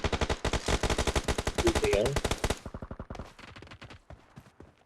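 Automatic gunfire from the video game PUBG rattles in a long rapid burst, then continues as sparser, quieter shots, with a voice briefly audible underneath.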